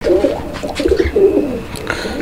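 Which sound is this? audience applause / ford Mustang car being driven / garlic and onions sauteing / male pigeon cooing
male pigeon cooing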